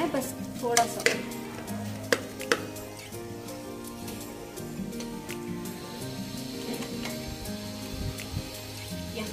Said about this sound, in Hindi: कोथमीर मेथी हरी मिर्च इसको भी थोड़ा सा फ्राई, इसको ज्यादा फ्राई नहीं करना है